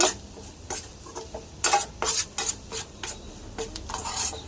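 Ivy gourd masala curry being stirred with salt in a pan, a spoon scraping and clattering in irregular bursts against the metal over a soft, steady sizzle of frying.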